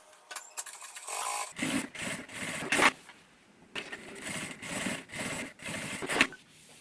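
A sewing machine runs stitches along the edge of synthetic fabric while topstitching both sides of a pocketed toiletry bag. It whirs in several short bursts with brief pauses between them, close and moderately loud.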